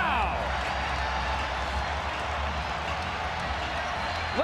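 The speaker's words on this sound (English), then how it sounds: "Listen to this crowd." Basketball arena crowd roaring loudly after a long three-pointer heaved from three-quarter court, a dense sustained wall of cheering with a commentator talking over it.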